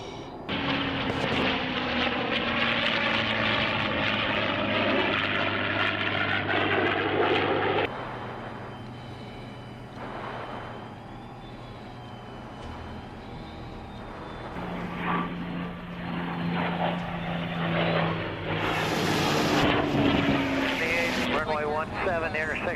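Fixed-wing aircraft engine roaring steadily around an aircraft carrier, loud and continuous with shifting tones as the plane passes, while voices talk over it throughout.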